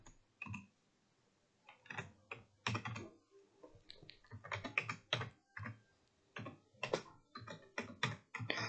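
Someone types on a computer keyboard while writing Python Tkinter code, the keys clicking close and quiet in irregular bursts and short runs with brief pauses between them.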